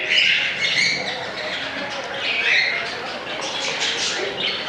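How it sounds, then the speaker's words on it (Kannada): Many birds call at an old lake in Bengaluru, a continuous chorus of squawks and chirps at moderate distance, steady and fairly loud with no talk. "ಹಕ್ಕಿಯ ಚಿಲಿಪಿಲಿ ಗಾನ"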